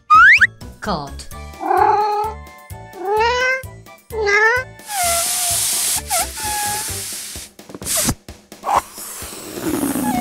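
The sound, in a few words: cat meowing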